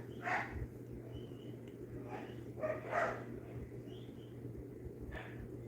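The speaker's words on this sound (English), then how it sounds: "I think these fucking dogs are fighting, man." Dogs bark in a few short bursts, a small multipoo likely among them, over a steady low hum indoors; the yelps come at moderate distance and sound agitated, as in a scuffle.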